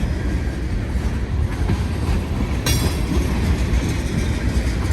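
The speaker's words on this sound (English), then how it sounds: "Now this train closer to me, that's a northbound train." A northbound train rumbles past on an elevated curve with a steady heavy roar and faint clatter of wheels, a sharp metallic hiss cutting in midway.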